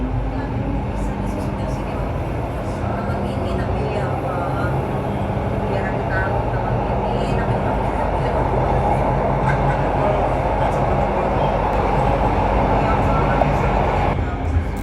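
A Jabodebek LRT train runs on its rails through a curve, a continuous loud rumble with rail noise and faint clicking, heard steadily from inside or near the car throughout, with voices talking over it.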